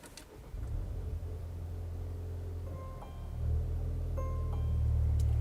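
A Volvo XC40 engine starts with the push button and settles into a steady low idle rumble inside the cabin, moderately quiet, rising slightly toward the end, no talking.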